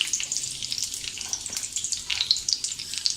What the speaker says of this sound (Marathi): तेल आपलं तापलं आहे, आपण ही कढीपत्त्याची पानं टाकूया।